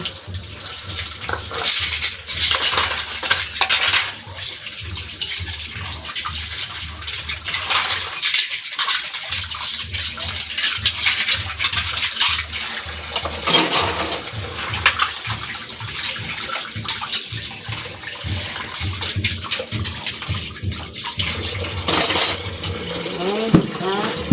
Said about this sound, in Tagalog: Maghugas na naman tayo guys ng maglinis na naman ako sa aming lababo guys